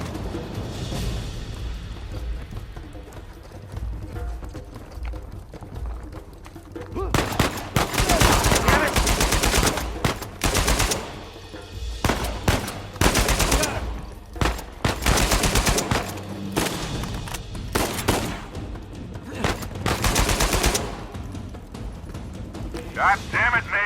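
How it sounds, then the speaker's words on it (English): Rapid bursts of gunfire from an Uncharted 4 video game gunfight, loud, dense volleys erupting after a quieter opening, with voices talking in between. "God damn it, Nate, I can hear the fireworks from here."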